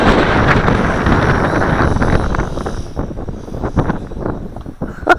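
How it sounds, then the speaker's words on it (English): On a windy day of flying a Syma X8C quadcopter outdoors, gusty wind buffets the microphone in loud rumbling blasts that ease off and then return in shorter puffs, with no talk. "Every once in a while you get a nice gust and there it goes."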